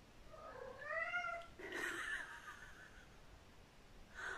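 A pet cat indoors gives a drawn-out rising meow followed by a shorter second call and a brief chirp at the end, fairly close but quiet.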